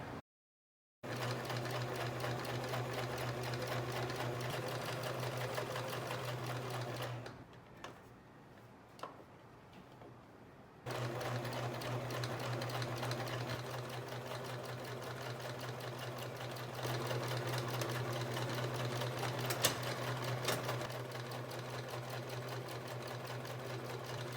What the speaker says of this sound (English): I'm going to sew the pieces right sides together